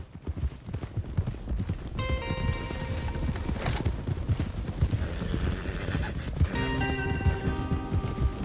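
Horse hooves galloping in Red Dead Redemption 2, a steady loud clip-clop of running hooves throughout, with musical tones and an in-game whinny-like sound layered over the continuous gallop.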